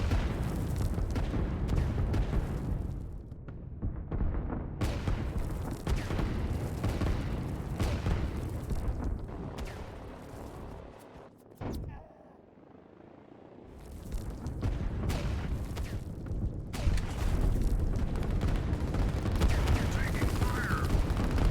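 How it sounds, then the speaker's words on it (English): Artillery barrages in the strategy game Line War pound a front line, dull booms and crackling volleys rolling almost continuously, briefly dropping away before resuming loud and dense, with a voice talking over them. "The artillery is going to take out that front line."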